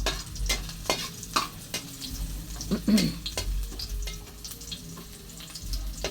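Food frying and browning in a home kitchen pan, a steady close sizzle punctuated by repeated sharp clicks and scrapes of stirring, with a faint low hum underneath and no talking.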